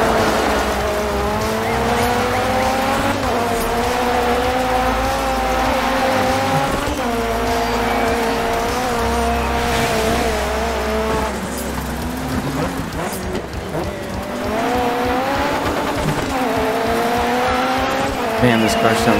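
Rally car in the racing video game Dirt 3, a loud, sustained engine drone rising and falling with gear changes, mixed with tire squeal and skidding on the racing surface, with someone talking over it at times.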